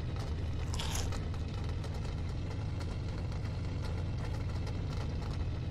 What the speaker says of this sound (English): The exhaust is really loud when you're at the back of the car.